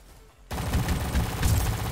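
Dense rapid gunfire in the Roblox military shooter Rolling Thunder erupts suddenly after a quiet moment, a loud, continuous burst of overlapping shots and booms close at hand.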